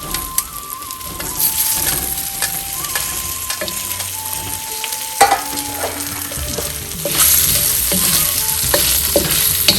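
Steamed rice dumplings being stirred into spices frying in a pan, a continuous close sizzle layered with scraping spoon strokes and soft clatter, rising slightly louder near the end, with no talking.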